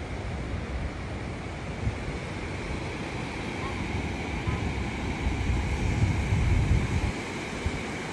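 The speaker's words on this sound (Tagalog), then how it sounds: "Lakas ng alon." Heavy surf roars continuously at Bagasbas, Daet, a dense rushing wash of breaking waves with wind buffeting the microphone.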